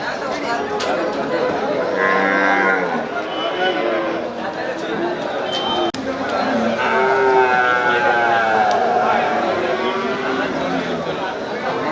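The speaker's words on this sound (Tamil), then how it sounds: "சரி அது காட்டு மாடு நல்ல மாடு நல்ல மாடு" Cattle low and moo repeatedly at the Melapalayam cattle market, with several animals calling over a busy crowd while men chat nearby throughout.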